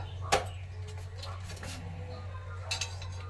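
Meat served onto plates for a rice meal, with a few light clinks of cutlery against dishes, one sharp near clink followed by softer ones, over a low steady hum.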